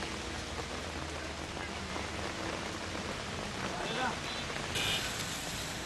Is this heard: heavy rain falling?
yes